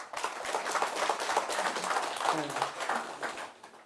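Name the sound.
audience applauding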